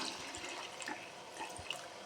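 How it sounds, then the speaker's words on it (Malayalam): Water is poured into simmering chicken curry in a cooking pot, a soft, steady splashing stream that runs throughout at low volume, with no voices. "ഇത് വേണ്ട കുറച്ച് വെള്ളം നമുക്ക് ഒഴിച്ചു കൊടുക്കാം"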